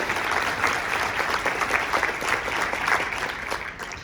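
An audience claps steadily at a Family Promise of Monmouth County event, a dense, sustained patter of many hands filling the room for about four seconds with no one speaking over it.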